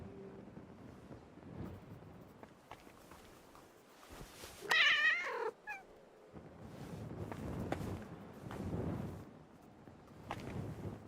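A cat meows in the medieval video game Kingdom Come: Deliverance II, one short clear mew over quiet wind-like ambient noise and soft background sounds.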